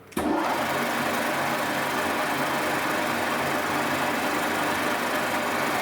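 A lathe boring bar cutting mild steel inside a bore at a feed of about seven thousandths per revolution, a loud, steady buzzing drone that starts abruptly and holds evenly with no voices.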